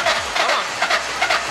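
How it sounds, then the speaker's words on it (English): Ford two-valve V8 in an Edge-era Mustang cranking over with a rhythmic, chugging starter beat, loud and close, repeating in steady pulses without catching. "let's see if this 2-valve can run so I can swap an LS into it."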